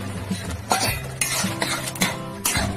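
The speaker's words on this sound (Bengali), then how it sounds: "এবারে ঢেঁড়সগুলোকে দিয়ে দিচ্ছি।" Okra tipped into a hot pan on a home stove for a Bengali okra and moong dal curry, with loud clanks and scrapes of a metal utensil against the pan in irregular bursts over a low background hum.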